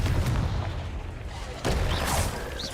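A Confringo blasting curse goes off in Hogwarts Legacy with a deep booming burst, followed a moment later by a second sharp blast with crackling, ringing debris.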